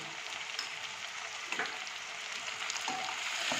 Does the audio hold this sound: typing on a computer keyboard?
no